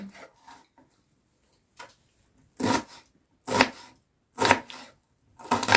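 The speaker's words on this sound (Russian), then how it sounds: "Лук нарезаем кубиками." A knife dicing onion on a board in short, sharp bursts, several cuts spaced apart with quiet gaps between them, close by.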